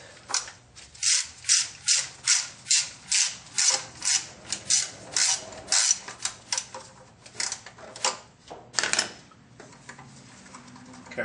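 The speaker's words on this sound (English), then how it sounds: "just go through removing all the bolts" A hand ratchet clicks in rapid repeated strokes while loosening valve cover bolts on a Chevy S10 2.8, a steady rhythmic series of sharp close ratcheting bursts that slows and thins out toward the end.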